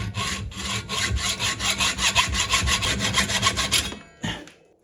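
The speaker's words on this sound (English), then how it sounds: "So now I can cut the bolt here and here" Rapid, even back-and-forth strokes of a hand saw cut through steel bolts on a roof rack solar panel mount, loud and close, ending with a single clunk.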